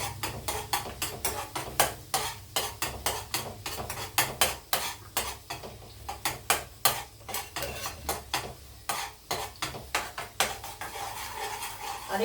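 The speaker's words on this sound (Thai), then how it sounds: "เยวกระเทียมให้เหลืองก่อนเลย" Garlic fries in pork lard in a pan, an early step in stir-frying bitter melon with egg and minced pork. A spatula clinks and scrapes against the pan in quick, steady strokes, with only a faint sizzle and no talk.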